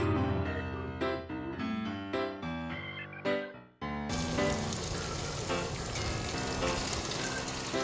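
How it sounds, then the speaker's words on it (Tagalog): Onion rings sizzle in a hot pan with oil for bistek tagalog, a loud, continuous frying hiss that starts abruptly after a few seconds of music and carries through to the end. "ilalagay na natin yung onion rings. Haluin ito, then i-fry ulit natin for 1 to 2 minutes"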